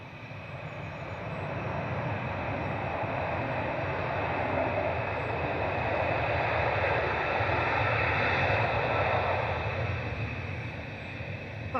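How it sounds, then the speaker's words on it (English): Jet airliner at Manchester Airport with its engines spinning up, a loud broadband roar swelling and holding steady, then easing slightly, with no voices. "Now all of its engines are spinning."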